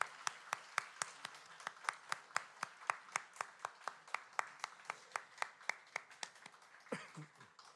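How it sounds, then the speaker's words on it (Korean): A church congregation at a Sunday service claps in a steady, even rhythm of sharp handclaps, moderately distant and fairly quiet, continuing alone for several seconds. "네, 박수하도록 하겠습니다."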